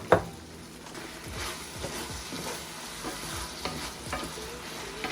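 Peppers are stirred into simmering Mongolian chicken in a pan, with steady sizzling and repeated scraping strokes of a spoon at close range, no talking.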